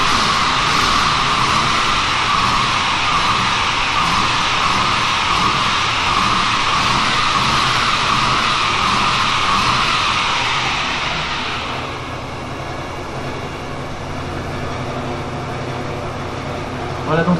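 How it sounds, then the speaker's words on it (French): An electric Tesla motor fitted in a movie car runs with a steady broadband whir and hiss, fairly loud and close, easing down to a quieter, lower hum after about twelve seconds, with speech mixed in. "un moteur Tesla comme vous pouvez l'entendre, c'est un moteur électrique."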